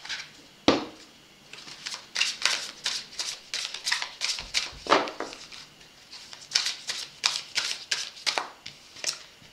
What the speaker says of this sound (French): Je vais couper le jeu.